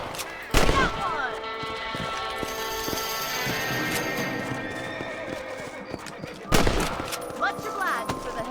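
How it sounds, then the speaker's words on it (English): Rifle shots ring out in Red Dead Redemption while hunting rabbits, two sharp loud blasts several seconds apart, with a horse's whinny and hoofbeats and faint ambient game sound between them. "Kill those little varmints. Get your rifle out."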